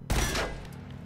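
A single heavy burst of gunfire in Killzone Shadow Fall, a loud boomy blast with a short rumbling tail that fades into quiet game ambience, no talk over it.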